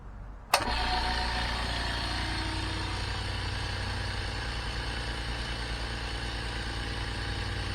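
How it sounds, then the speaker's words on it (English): A Quip All ultra quiet air compressor kicks on abruptly and keeps running steadily, a smooth motor drone with a low hum filling its 6.3 tank, loud and close with no talking. "So for a air compressor, I mean, that's pretty quiet."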